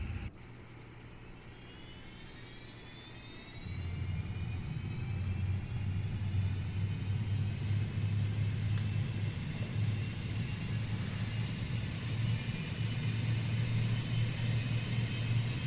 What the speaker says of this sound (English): Let's go ahead and fire up the APU.